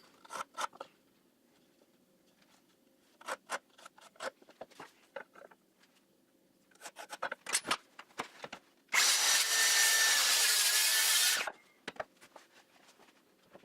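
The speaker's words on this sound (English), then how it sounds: "every one of these cuts I'm adjusting the angle of the saw to make sure that I've got a square corner" A saw cuts live edge wood for trophies, with the angle adjusted for each square corner: sparse clicks and taps, then one loud, steady cutting burst lasting a couple of seconds, followed by more scattered handling knocks.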